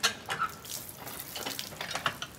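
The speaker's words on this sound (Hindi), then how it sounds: "ये हैंडपम्प है, पीछे से पकड़ के ऊपर नीचे करो, दबाओ नीचे कर" Cold water gushes from a hand pump at an ashram in Haryana, splashing in uneven surges with a steady rushing wash throughout, close and fairly loud.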